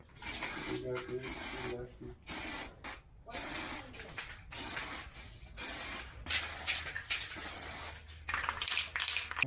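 Red paint sprayed onto Lectric XP electric bike parts in a series of short and longer hissing bursts separated by brief pauses, close and fairly loud, with some talk in between.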